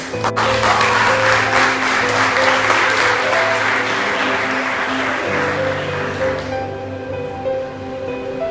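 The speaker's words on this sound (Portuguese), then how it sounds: "Dá um aplauso para ele." Congregation applauding in a church service, a steady wash of clapping that runs loud throughout, with a sustained tone and faint voices underneath before thinning near the end.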